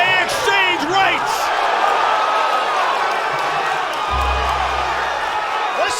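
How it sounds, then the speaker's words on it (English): A boxing arena crowd roars steadily during a Tim Tszyu fight, a dense continuous wall of cheering and whoops with a few sharper shouts, while a commentator talks over it. "Listen to this crowd."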